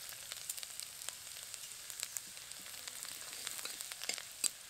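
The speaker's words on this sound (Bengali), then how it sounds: "রসুন আর আদা কুচিটা হালকা করে ভেজে নিয়েছি" Chopped garlic and ginger fry in oil over whole cumin and dried red chillies, giving a steady faint crackle with scattered soft pops and one sharper spatter near the end. No one speaks.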